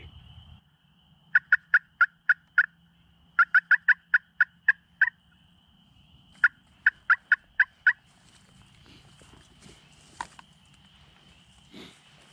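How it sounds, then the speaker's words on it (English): Wild turkeys gobble in spring woods: three separate bursts of rapid, rattling gobbles at moderate distance over quiet background, with faint scattered rustles between them. "the gobbles went from being super responsive in the same distance"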